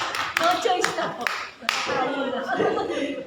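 A church congregation breaks into hand clapping that builds to a steady, fairly loud patter, mixed with scattered chuckles and talk from the room.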